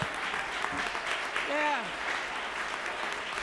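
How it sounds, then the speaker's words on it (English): Audience applause at a city council meeting, steady broadband clapping filling the room throughout, with a brief spoken word over it. "Another big round of applause"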